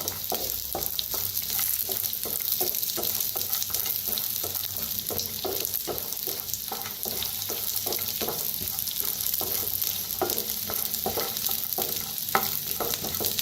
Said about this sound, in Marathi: त्यातच टाकूया शेंगदाणा, असं तेल ओतूया, भाजून घेऊया।